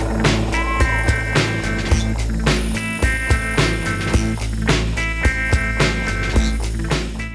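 A metal lathe running at about 400 RPM while a cutter makes a pass, a loud steady mechanical hum with regular rhythmic knocks and ringing metallic tones throughout.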